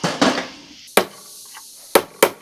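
A hammer strikes a chisel against the front control arm of a 1971 Cadillac Coupe DeVille, giving four sharp metallic blows at irregular spacing, close and loud, with faint clatter between them.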